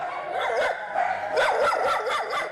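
Feral dogs in a rural village bark repeatedly in winter, a cluster of sharp overlapping barks with a short pause, then a fresh run of several close, loud barks and yips.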